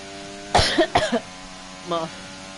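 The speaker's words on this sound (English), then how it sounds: "That's why I've been coughing so much." Someone at a sim racing session at Silverstone gives two sharp coughs close to the microphone, followed a moment later by a brief, soft throat sound.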